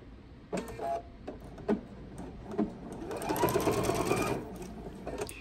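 A sewing machine stitching fabric binding, with a few short separate runs of stitching followed by a longer continuous whirring burst, close and clear with a faint voice now and then.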